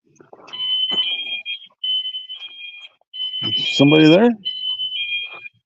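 Small home alarm system sounding a steady high electronic tone in repeated long bursts with short gaps, fairly loud and close, while a person speaks briefly over it.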